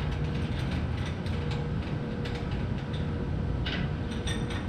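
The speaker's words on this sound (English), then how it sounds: "So if I just release these clamps" Clamps are released on a KwikWay Master Head Shop valve job machine, producing faint, continuous mechanical ratcheting and creaking with scattered small metallic clicks and no talk.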